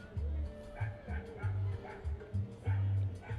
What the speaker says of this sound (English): the barking dog